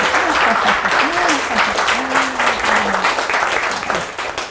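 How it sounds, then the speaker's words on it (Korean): An audience at an evening humanities lecture breaks into loud, dense applause that fills the room, while a few voices call out faintly underneath. "박수 한번 주세요."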